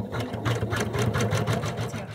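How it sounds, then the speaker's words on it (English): A sewing machine satin stitching around a fleece heart appliqué: a fast, even mechanical whir with a rapid pulsing rhythm, close and steady throughout. "your next step will do the satin stitch around the outside of our heart"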